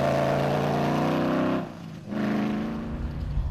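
An off-road race car engine in a competition, sounding worse for wear, drones steadily close by, dips briefly as the throttle eases, then picks back up with a rough, uneven note.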